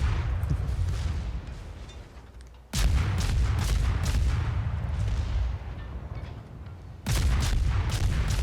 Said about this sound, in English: launch the torpedoes at him